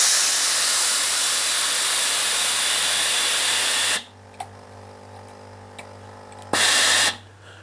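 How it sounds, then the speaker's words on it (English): A Tefal GV9230 high-pressure steam generator iron lets out a loud, steady hissing jet of steam for about four seconds, then falls quiet before one more short, forceful burst. "if I just press it lightly, the steam come out like a jet"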